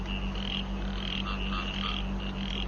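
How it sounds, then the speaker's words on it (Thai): Frogs and small frogs croak in a dense, unbroken chorus around a temple during a meditation session, with a steady low hum running underneath. No one speaks. "จะได้ยินเสียงเขียดเสียงกบให้หน่อย"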